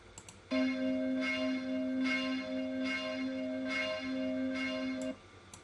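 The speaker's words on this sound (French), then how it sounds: "Traditionnellement, en Bourgogne, c'est la plus petite cloche. Donc, sur le simulateur de cloche," The smallest church bell, played on a bell simulator following Burgundy tradition, tolls in a steady series of about six evenly spaced strikes over a sustained ringing tone, clear and moderately quiet with no voices.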